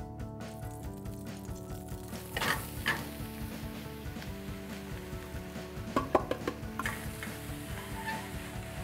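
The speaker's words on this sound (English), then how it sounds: "Now we're going to saute the mushrooms in a little bit of olive oil" Sliced mushrooms sautéing in a little olive oil in a hot pan, a soft continuous sizzle with occasional utensil clinks and stirring scrapes, fairly quiet and close.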